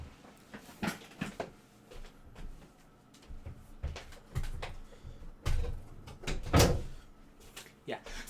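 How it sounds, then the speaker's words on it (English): A door is shut in a home: a handful of soft knocks and thuds from the door handling, with muffled voices or movement between the bumps. "let me close my door"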